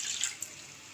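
Water poured from a cup into a wok on the stove for biscuit halwa, a short steady splashing rush with a small drip near the middle, close by and alone.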